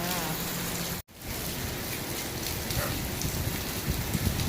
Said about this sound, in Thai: ฝนตกแรงมากเลยวันนี้อากาศไม่ดีมากจ้า